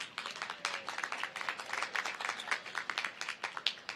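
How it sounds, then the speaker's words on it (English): Dense, steady applause from an audience at a spring 2023 commencement ceremony, many hands clapping together in a continuous crackling wash for about four seconds, with no voices over it. "So give yourself a round of applause for the graduates"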